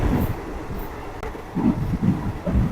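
A train in Nakhon Sawan, Thailand, rumbles along with low, rhythmic clatter rising and falling, steady and fairly close, with no voices.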